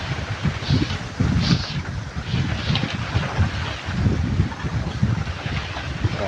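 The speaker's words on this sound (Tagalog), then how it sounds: "Lakas ng hangin." Strong wind buffets the microphone in steady, roaring gusts that swell and ease, loud and close throughout with no voices, on a rainy farm field during a storm.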